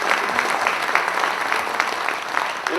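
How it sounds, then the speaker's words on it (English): At a corporate technology conference, an audience gives sustained, even applause for earlier speakers, with dense clapping that stays at a steady level throughout the short stretch. "why don't we give a big round of applause for the speakers before me"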